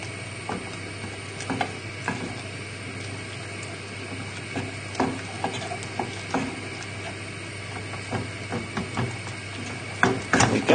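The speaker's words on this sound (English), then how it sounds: "just break up the mixture and stir it in" Fish pie mixture is stirred in a bowl, giving soft, irregular scraping and clicking strokes with several louder knocks near the end, all at a low level over a steady background hum.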